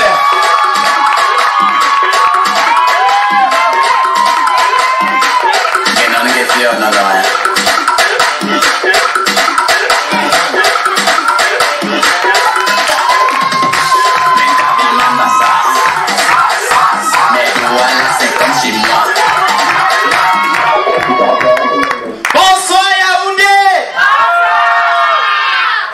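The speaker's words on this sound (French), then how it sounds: "Un applaudissement, s'il vous plaît." A lively audience claps and cheers loudly, with whoops and high shouts that sound like children's voices, filling the room almost continuously for over twenty seconds before the noise shifts near the end.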